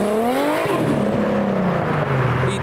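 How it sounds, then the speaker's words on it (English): A Mitsubishi Lancer Delta drives off, its engine rising through the gears with a clear falling pitch as it pulls away close by, loud and steady. "We've got the Lancer Delta as well. There goes the Delta."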